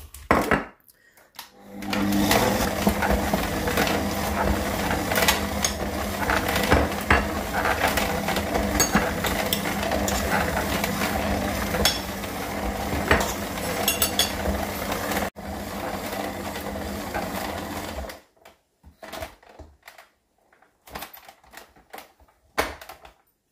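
A stand mixer kneads brioche dough with a steady mechanical whir and rhythmic knocking for most of the stretch, then stops, leaving scattered clunks and quiet gaps.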